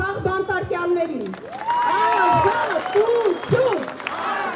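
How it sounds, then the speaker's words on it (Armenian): At a political rally, a crowd claps in support of political prisoners, a broad wash of applause behind loud, raised voices shouting and talking over it. "ես առաջարկում եմ, որպեսզի մենք մեր ծափողջուններով մեր աջակցությունը հայտնենք բոլոր քաղբանտարկյալներին"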